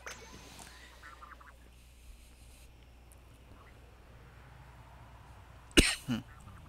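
A person coughing twice in quick succession near the end, sharp and close, after several seconds of quiet low background hum.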